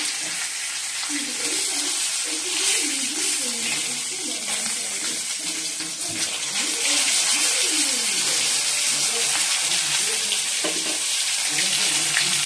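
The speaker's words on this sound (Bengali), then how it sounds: "চলো মাছটা ভাজছি।" Parshe fish frying in a pan in a home kitchen, a continuous loud crackling sizzle with running water and clattering in the background, growing slightly louder midway.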